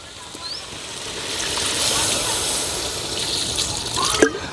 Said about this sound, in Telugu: ఇప్పుడు నీళ్ళు పోసుకుంటాను చూడు